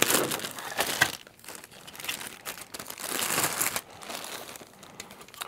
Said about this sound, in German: Ich werde das Chassis mal hier auspacken.